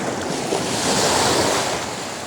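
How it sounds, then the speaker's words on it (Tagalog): Ocean waves at high tide wash onto a shore during a morning fishing outing, a continuous close roar of surf that swells in the middle, with wind buffeting the microphone. "So napakalaking tubig, napaka high tide guys."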